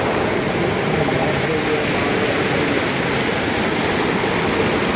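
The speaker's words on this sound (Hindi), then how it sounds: "ये आप जो झरना देखें बेइंतहा खूबसूरत झरना है ये" A waterfall along the mountain road to Taobat roars as a steady, loud, broadband rush of falling water, continuous and unbroken, with no voices over it.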